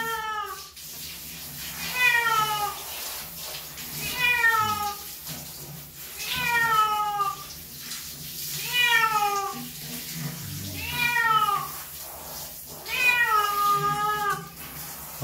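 A fat cat with soaking wet fur meows repeatedly during a bath, about six drawn-out, wavering cries spaced roughly two seconds apart, close and clear over faint running water.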